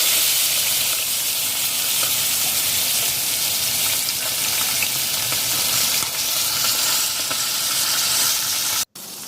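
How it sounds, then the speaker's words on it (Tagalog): A single talakitok fish frying in a little oil gives a loud, close, steady sizzle and hiss that runs unbroken and cuts off abruptly near the end. "Na-fry na natin ang ating talakito."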